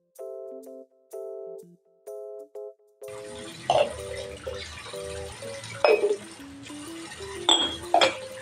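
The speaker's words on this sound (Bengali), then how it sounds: "এখন আমি সিঙ্কে কয়েকটা একটু থালা বাসন আছে, সেগুলো ধুয়ে ফেলবো।" Plates and dishes are washed in a kitchen sink: sharp clinks and clatters of crockery over a light wash of running water, following a few seconds of short musical tones.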